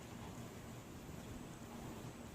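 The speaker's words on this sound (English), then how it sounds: "It's raining pretty hard out there." Heavy rain pours down in a severe thunderstorm at Rehoboth Beach. It makes a constant, even hiss like dense static, steady and fairly distant, with no voices.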